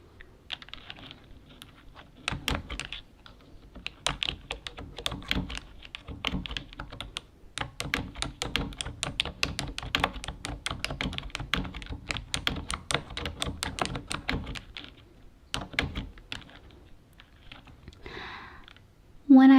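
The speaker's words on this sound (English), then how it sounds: "I'm just going to be typing up some shadow work" Fast, close typing on an orange computer keyboard, a dense run of crisp clicks and thunks with brief pauses between bursts, then a short spoken phrase at the end.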